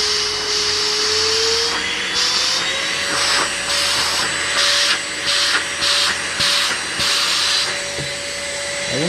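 An Airbot Supersonics vacuum cleaner runs steadily close by with a high motor whine, while its airflow surges and dips in repeated pulses.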